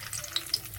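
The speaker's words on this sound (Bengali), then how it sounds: "ফোড়নে দিচ্ছি দুটো তেজপাতা" Two bay leaves sizzle in hot oil for a tempering, a steady close frying hiss with a couple of faint crackles, brief and without talk.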